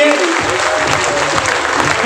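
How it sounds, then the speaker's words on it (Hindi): Audience applause at a motivational training seminar, a dense burst of clapping that fills the room and carries on steadily under a voice speaking over it. "अभी एक बार जोरदार तालियां बजा लीजिए अपने लिए।"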